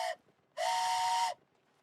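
A steam-style train whistle blows as a short toot followed by a longer, steady blast, loud and clear with silence between and after.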